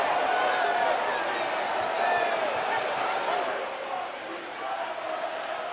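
A loud stadium crowd at a Pitt college football home game against Clemson roars during a timeout, a dense sustained wall of cheering and shouting that dips slightly near the end; some talk sits within the din.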